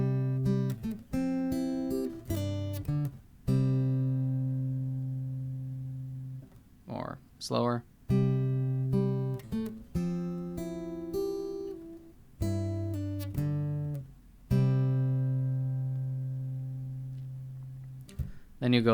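Acoustic guitar picks a song in a repeating pattern of plucked notes with pull-offs, close and clear, with a brief spoken aside partway through.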